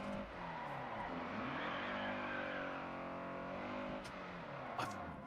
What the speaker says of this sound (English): It sounds like a straight-piped Golf R. And then it fades in to the noise of the car.